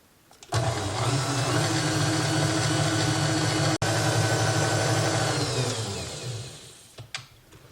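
An electric mixer whips cream on its way to butter, a steady close motor whine running continuously for about six seconds with a brief dropout midway, then slowing and stopping.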